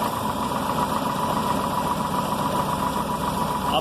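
A car engine held at a steady 1500 rpm with the AC, blower motor, brake lights and audio system all switched on during a Bosch BAT 131 battery load test, a continuous even hum with no speech.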